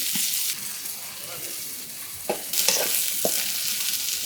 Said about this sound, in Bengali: আগে আমি মাছটা ভাজিয়ে নিতে আসি